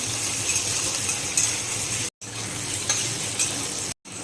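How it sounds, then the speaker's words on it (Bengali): Onions frying in hot mustard oil in a wok give a continuous sizzle with occasional light clinks of stirring, broken by two brief silent gaps and with no talking. "পেঁয়াজগুলো দিয়ে আমি পেঁয়াজগুলো একটু এইভাবে ভেজে নেব"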